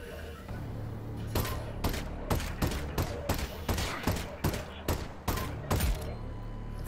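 A gun empties a whole magazine in the video game Half-Life: Alyx, a rapid series of about a dozen sharp, evenly spaced shots ringing out close and loud over a low background hum.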